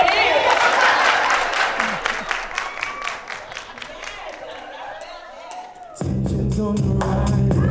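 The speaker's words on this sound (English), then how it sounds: "Everybody clap your hands." A crowd at a spoken word performance claps along in a steady rhythm amid cheers, the clapping thinning out before music comes in abruptly near the end.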